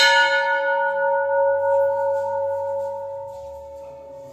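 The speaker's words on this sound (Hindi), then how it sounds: "इस घंटा को बजाइएगा तो ओम की ध्वनि आपको 1 मिनट तक निकलेगा।" A large temple bell at the ancient Chaturbhujnath temple in Muzaffarpur, Bihar, rings out once, leaving a loud, steady metallic hum with a deep Om-like drone that sustains and slowly fades.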